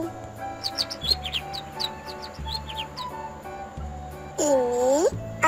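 A bird chirps in a series of quick, bright tweets over a backing of rhythmic low music, followed near the end by a brief meow-like sound.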